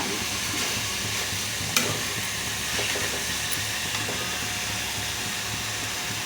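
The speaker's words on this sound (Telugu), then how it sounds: "అల్లం వెల్లుల్లి పేస్ట్ వేసి కలుపుకొని మొత్తం ఇలా అల్లం పేస్ట్ అంతా ముక్కలు పట్టేలాగా కలుపుకోవాలి." Mutton pieces coated in ginger garlic paste are stirred in a kadai over a steady, close sizzle, with scraping and clinking accents from the spoon and no talk.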